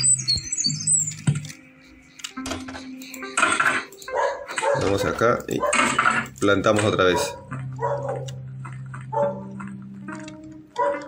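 A pet dog barks in short, close bursts scattered across the stretch, mixed with a person talking.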